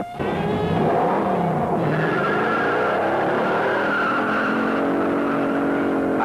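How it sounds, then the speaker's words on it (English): A Dodge Charger 500 with a Hemi engine launching hard off the line, its engine roaring loud and steady with tire squeal over it for several seconds. "I think it was going 45 miles an hour when we left the line"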